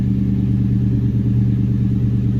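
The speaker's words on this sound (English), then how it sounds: "Right now, it's idling about 1100 RPM." A New Edge Ford Mustang GT V8 idling around 1100 RPM on a cold start after a bolt-on modification, a loud, steady, even rumble with no variation in pitch.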